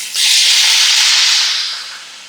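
White wine poured into a hot pan of squid tentacles and garlic bursts into a loud, close, steamy hiss that holds steady, then slowly fades over a couple of seconds, with no talking.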